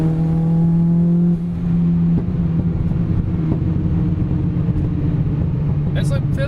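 A Mitsubishi Evo 9 fitted with a Tomei titanium exhaust drives steadily with a low, droning engine note that holds near and loud throughout, shifting pitch slightly early on, while someone talks over it.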